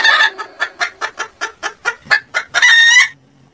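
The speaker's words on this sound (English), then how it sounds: "H for hen." A hen clucks in a quick run of about a dozen short, evenly spaced bursts, loud and close, then a rooster lets out a sustained crow at the end, with no other sounds around them.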